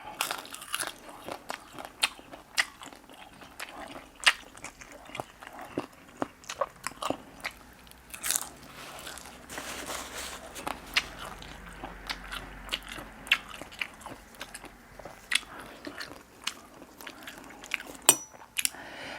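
Fried chilies being eaten close to the microphone, a steady run of sharp crunchy bites and chewing clicks, fairly quiet, with no talking.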